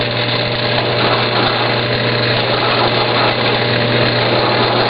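A metal drill bit bores through a piece of dense rosewood while building an RC rock crawler chassis, giving a loud, steady, unbroken whirring drone that holds the same level from start to finish.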